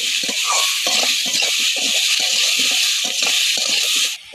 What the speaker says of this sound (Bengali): আর একটু নেড়ে চেড়ে নেব।